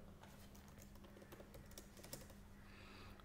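Close, quiet typing on a computer keyboard while an SQL query is written, with rapid irregular keystrokes throughout.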